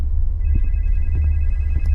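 A hotel telephone rings faintly with a thin, steady electronic tone over a heavy low rumble and scattered soft knocks.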